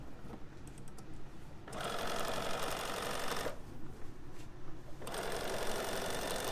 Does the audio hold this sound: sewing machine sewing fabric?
yes